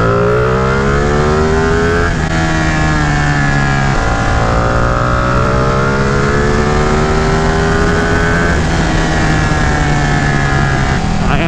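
A 2018 Ducati Panigale 959 motorcycle under way, its engine loud and close with a steady droning whine that rises and falls through repeated throttle changes and gear shifts.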